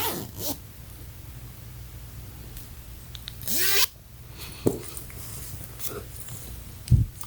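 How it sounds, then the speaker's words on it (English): A few quick pulls of a track pants ankle zipper and fabric rustles close by, with short bursts separated by quieter handling noise. "And you got this ankle zipper right here."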